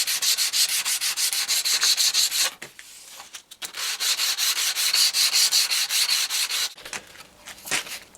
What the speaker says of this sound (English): I normally get some sandpaper. This is 100 grit, and I just bevel those edges flat,